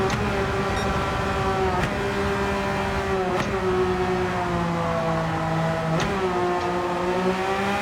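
Engine of a car in Gran Turismo 7 revving steadily and loudly throughout, with harmonic pitch rising and falling across several gear changes and brief sharp shifts, no voices.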